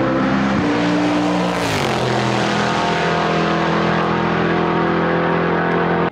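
A rare car fitted with a 6-litre Ford NASCAR engine revs loudly, a deep, harsh roar that surges up in pitch early on, then holds a sustained, steady drone.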